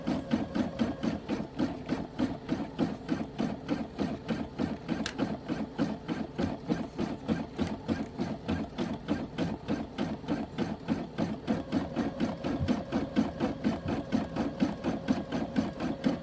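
A Brother SE700 embroidery machine stitches steadily, a fast, even mechanical whirring and ticking rhythm that holds close and constant from start to finish.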